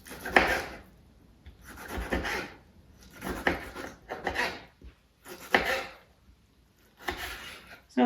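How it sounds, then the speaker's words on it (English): A knife cuts meatless chicken into cubes on a cutting board with repeated close scraping strokes in spaced bursts, and a voice talks between them. "then I'm going to cut it into cubes."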